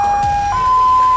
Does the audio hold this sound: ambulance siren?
yes